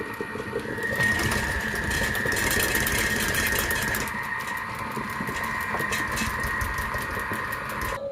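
A Thermomix TM5 mixing mashed potatoes, a steady high motor whine with a rattling, churning texture that runs loud and close throughout, easing slightly toward the end.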